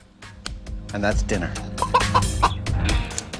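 A hen clucks in agitated bursts while being chased toward a rope-and-net trap on an island, the calls close and loud and mixed with a voice talking throughout.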